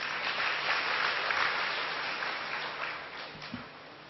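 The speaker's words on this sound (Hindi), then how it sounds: "भाई ताली तो बजाओ, प्यारा करो।" An audience at a BK gathering claps in a dense, steady burst of applause that fills the whole stretch and eases off slightly toward the end, with no voices.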